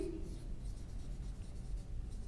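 A pen writes a date on paper, giving a continuous soft scratching under low room noise with no speech.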